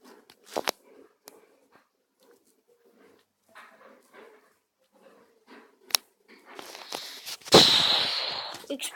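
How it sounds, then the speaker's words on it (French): Explosion in the Angry Birds video game, a sudden loud noisy burst that then rings and decays over a couple of seconds, following scattered quieter game sounds and clicks. "Explosion."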